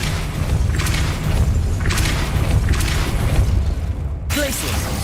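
A Depulso force spell fires in the Hogwarts Legacy video game, several deep whooshing booms at roughly regular intervals over a constant low rumble, with a brief tonal chime near the end.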